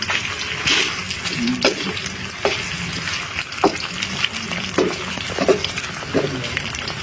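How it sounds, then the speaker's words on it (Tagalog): Sliced hotdogs stir in a hot pan with browned garlic and onion for spaghetti sauce, a steady close sizzle broken by regular spatula scrapes and knocks, loud and without talk. "Haluin muna natin"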